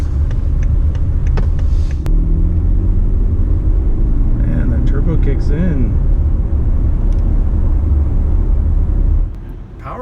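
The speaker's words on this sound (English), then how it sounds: "And the turbo kicks in." A 2019 BMW X3 sDrive30i's turbocharged engine pulls under acceleration, a loud, steady rumble with rising engine tones heard from inside the cabin, ending with a sudden drop.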